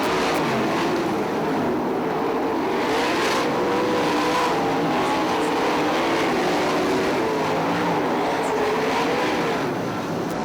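A pack of 410 sprint cars races around the dirt oval at Fremont Speedway, their engines blending into a loud, continuous, snarling roar that swells and fades slightly as the cars circle.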